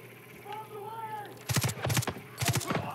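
Bursts of machine gun fire in the video game Far Cry 5, three loud rapid volleys in the second half, heard after a quieter stretch of game ambience with faint tonal sounds.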